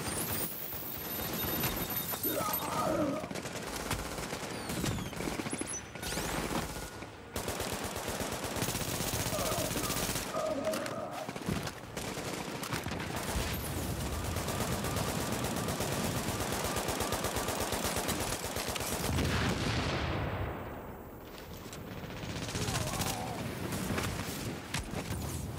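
Automated turrets in a video game fire in long rattling bursts of rapid gunfire, loud and close, broken by short gaps and mixed with other game noise.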